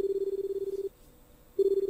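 Ringback tone heard from a public phone box handset while calling the police, a steady low electronic tone that sounds, stops for about a second, then sounds again.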